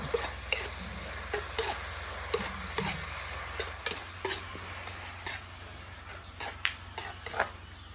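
Homegrown bean sprouts stir-fried in a pan, with a steady low sizzle under frequent sharp scrapes and taps of a spatula, close and irregular throughout.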